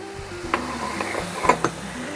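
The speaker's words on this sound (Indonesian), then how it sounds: "Diaduk-aduk sampai airnya susut ya." A utensil stirs vegetable filling for stuffed tofu in a hot pan. A continuous sizzle runs under several close, scraping stirs at an irregular pace.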